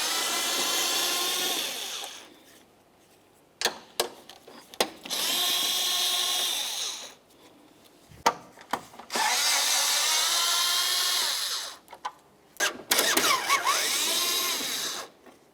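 Power drill spins out 10 mm headlight mounting bolts and nuts on a 1999-2003 Toyota Solara, four loud whirring runs of a few seconds each separated by clicks and clunks.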